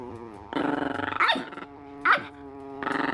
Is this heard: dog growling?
yes